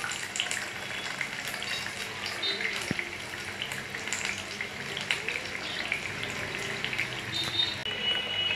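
Potato pakoras fry in hot oil, giving off a steady, bright sizzle and crackle with small popping bursts that run close and unbroken throughout.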